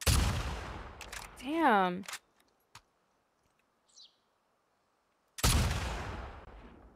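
Gunfire from a gun in The Last of Us Part II, a loud burst of shots at the start and another sharp blast near the end, separated by near silence with a couple of faint clicks, and someone speaking briefly between.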